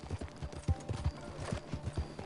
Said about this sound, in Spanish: El caballo, si le doy a azul, se cansa enseguida.